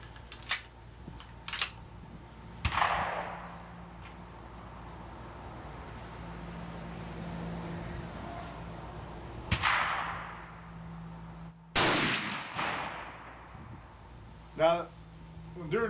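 A rifle fired while being sighted in: a few sharp cracks spread across the stretch, each trailing off in a brief echoing decay outdoors, with people speaking quietly between shots.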